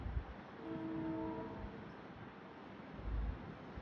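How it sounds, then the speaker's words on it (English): A freight train horn sounds near the freight yard lines at Ōtāhuhu in Auckland, New Zealand: one sustained multi-tone blast of about a second, moderately distant, over a low outdoor rumble. "Heard a freight train horn just then."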